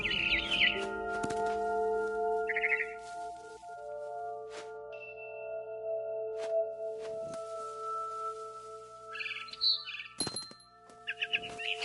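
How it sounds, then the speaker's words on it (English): Barn swallow chirping in a PS4 video game, with brief high chirps and tweets scattered across the scene, over steady tonal game music and occasional soft thunks. "Then I heard chirping outside my window. It was a barn swallow going back to her nest."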